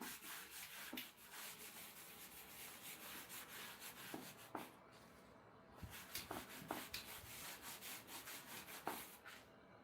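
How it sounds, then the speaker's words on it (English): A flat metal bar is rubbed back and forth over a coarse barber's sharpening stone, giving continuous gritty scraping strokes close by, punctuated by a few brief sharper scuffs and taps. "We are cleaning the surface of the stone."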